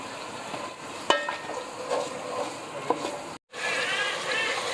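Tomatoes fry in oil over high heat for a chickpea curry, giving a steady close sizzle with occasional stirring clicks and a brief dropout before the frying resumes.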